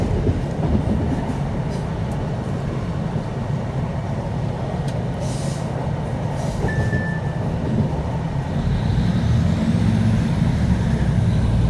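A train pulls away from Derby along the railway line, a steady, loud rumble of wheels and engine with faint rail squeal and clatter throughout.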